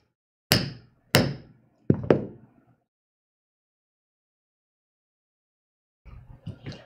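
Hammer strikes set small rivets into leather for a tote bag, three sharp, close taps spaced about a second apart, then silence before a few softer knocks and handling noises at the end.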